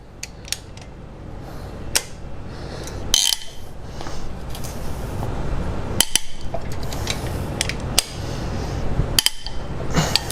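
A cylinder head bolt on a Jeep 2.4 engine is torqued down, with several sharp metallic clicks and clanks of the wrench spaced irregularly over a low background hum.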